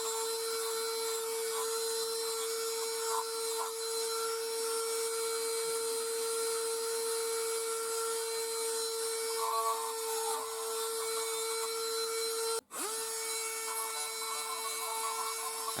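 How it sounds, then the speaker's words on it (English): A Dremel 8240 rotary tool on a flexible shaft carves petals into a turned wooden flower, giving a steady high-pitched whine with light grinding. The whine holds for the whole stretch and cuts out briefly near the end. "This is the 8240 with the flexi shaft, and I'm just slowly working through some bits and put a few petals on there."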